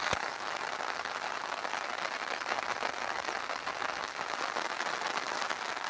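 Heavy rain pours down steadily in Tamil Nadu, a dense, even hiss of water drumming on surfaces without letup from start to finish, with no voices over it.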